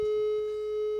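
A steady, pure electronic tone from a WhatsApp phone call rings out alone and unbroken, loud and clear for the whole moment.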